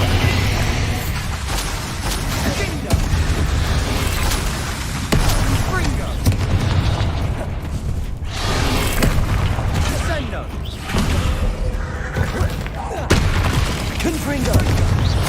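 Dense, continuous battle din from the Bombarda spell in Hogwarts Legacy, with booming blasts and bursts layered over constant loud noise, a voice shouting spell names throughout.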